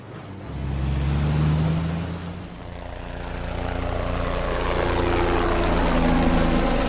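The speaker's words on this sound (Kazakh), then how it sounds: "Автобус." Engine of a cartoon bus, a steady low rumble with a slight idling throb that swells, dips briefly, then builds again into a thicker roar, with no voices.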